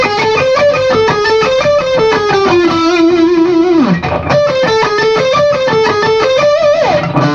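A distorted electric guitar plays a fast metal shred lick, rapid picked notes climbing and falling in repeating runs, loud and saturated with no other sound.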